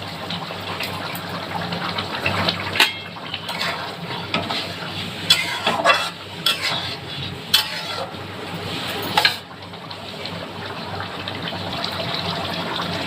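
Curry broth for doi katla, a Bengali yogurt fish curry, bubbles and simmers in a pan with a steady low seething, broken by a few sharper clinks and stirring knocks. No one speaks.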